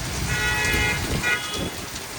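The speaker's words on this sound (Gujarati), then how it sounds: "4:30 અને વરસાદ આવી ગયો છે ધોધમાર," Heavy afternoon rain pours down in a steady, dense roar of close hiss with no gaps, filling the whole moment without any voices.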